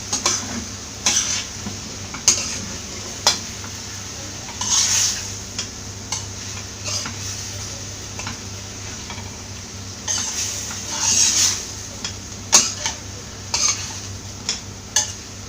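Grated coconut being stirred into a green tomato stir fry (thoran), a spoon scraping and clinking against the pan in repeated strokes over a low sizzle, close and moderately loud.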